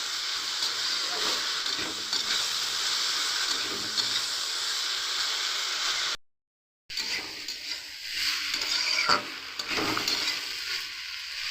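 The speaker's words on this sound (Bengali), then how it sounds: "ভালো করে ভাজা হোক" Okra frying in a pan: a constant close sizzle and steamy hiss that cuts out in a short silent break near the middle, then resumes with occasional faint pops and scraping.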